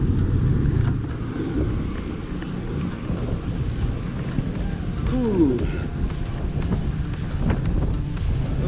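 Wind rushes into the microphone during a bicycle ride along busy town roads, making a continuous low rumbling buffet. A brief warbling tone and faint background sounds rise above it midway.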